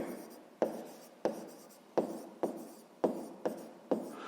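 Pen writing an equation on paper: a run of short scratchy strokes, each starting with a sharp attack and trailing off, repeats at a steady pace with about seven strokes, close and quiet.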